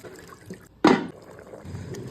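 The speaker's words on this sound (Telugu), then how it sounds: "ఇప్పుడు సరిపడా నీళ్లు పోసుకుని బాగా ఉడకనిచ్చుకుందాం." Water is poured into a pot of country chicken curry in a short, splashing gush near the middle, set against a quieter kitchen background with small clinks before and after.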